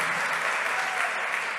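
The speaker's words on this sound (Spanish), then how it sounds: "Amén, démosle un aplauso al Señor." A church congregation claps together, a dense, even patter of applause filling a short moment at moderate volume.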